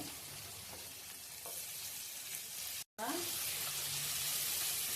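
Onions and garlic sautéing in oil for a prawn curry, a soft steady sizzle close by with faint stirring scrapes, fairly quiet.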